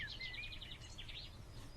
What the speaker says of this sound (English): Tweet of the Tweety birds.